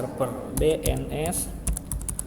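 Rapid keystrokes on a computer keyboard while setting up DHCP on a Cisco router, clicks close and clear with a firmer press of the enter key, a voice talking over the typing.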